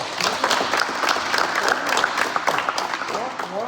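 Basketball team clapping together after an AAU practice, a ragged burst of hand claps with scattered sharp hits, close and lively, with voices talking and calling out over it.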